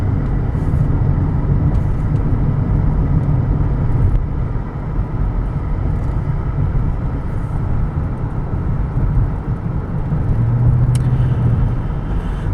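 A 2004 Cadillac DeVille cruising on the road, a steady low engine and tire rumble with wind noise held at an even level throughout, no speech over it.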